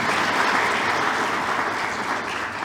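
Steady, dense applause from an audience fills the space, holding at an even loudness and tapering slightly toward the end with no voices over it.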